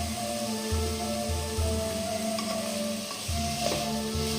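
Chicken and rice with black pepper and ground coriander being stirred in a pan, a steady sizzle with soft scraping and clinking strokes of the spoon, close and continuous, no talking.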